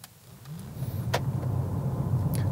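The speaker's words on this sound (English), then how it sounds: "this car simply hurls itself away from rest" A Peugeot e-208 electric supermini pulls away from rest, a low, steadily building whir and road hum heard from inside the cabin, with a few faint clicks and no voices.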